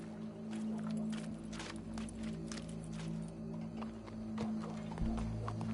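Horse hooves clip-clop in Red Dead Redemption 2, a faint, steady walking rhythm of hoofbeats with a few soft scuffs and a brief thud near the end.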